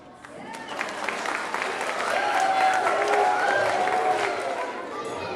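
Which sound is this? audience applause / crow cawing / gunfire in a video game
audience applause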